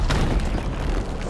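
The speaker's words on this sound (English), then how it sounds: "it's fireworks right now happening at this fort." Gunpowder explosions going off like fireworks at a fort in the Sea of Thieves video game, deep rumbling booms with a couple of sharper bursts, loud and close, with no voices.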